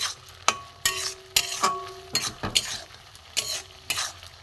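Spinach and egg frying in a pan, a soft steady sizzle punctuated by regular sharp knocks and scrapes of a spoon stirring against the metal, close and fairly quiet with no speech.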